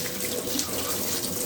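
Tap water pouring steadily into a cooking pot in a home kitchen, a continuous close rushing splash with no one talking.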